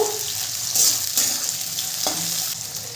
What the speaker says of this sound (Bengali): নেড়ে চেড়ে একটু ভেজে নেব।